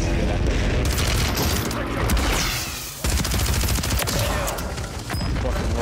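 Video game shootout with RPGs and snipers: dense, loud bursts of automatic gunfire and booming explosions run almost continuously, briefly dipping around the midpoint before resuming at full intensity.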